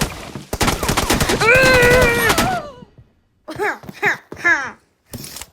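Rapid automatic gunfire in a video game rattles loudly in a dense burst for about two seconds, overlapped by a person's excited shouting, followed by more short spoken outbursts.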